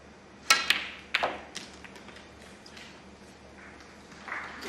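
Crisp tip-on-ball knock of a snooker cue striking the cue ball during a professional Champion of Champions match, a sharp click followed by another tap, then quiet arena ambience.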